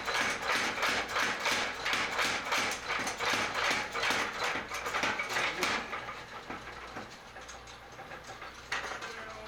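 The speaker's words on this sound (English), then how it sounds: "A little more aggressive blows with the hammer. This is what actually is bringing the 2 pieces into 1 piece." Heavy iron on a blacksmith's hammer for a Borax wagon, forge-welding two pieces into one: a rapid, even run of loud, close strikes that stops after about six seconds, followed by one last lone blow in the quieter shop air.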